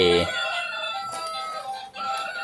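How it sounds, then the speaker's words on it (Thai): A battery-powered toy hen gives electronic clucking and crowing calls, a few tinny bursts with a pause between them, close and clear, as a voice is briefly heard. "นี่แล้วก็ ชิคเก้นแม่ไก่"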